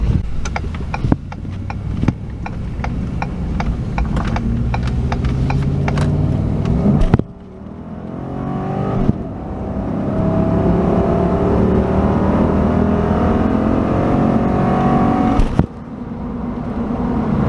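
A Ford Super Duty pickup truck is driving, heard from inside the cab as a steady low engine and road hum, with a few shifts in tone and some clicks and knocks.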